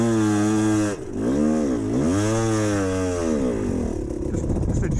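A GPX TSE 250R motorcycle engine revs loud and close, its pitch climbing and dipping in repeated throttle blips over about five seconds, with a rougher idle-like patter near the end.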